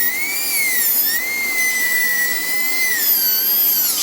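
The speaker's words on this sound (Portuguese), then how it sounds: "Eu usei a broca quase paralela ao longo eixo do dente" A high-speed dental drill bur whines while cutting grooves in a tooth for a metal-free crown preparation, a loud piercing steady tone that dips slightly in pitch as it bites, close and continuous.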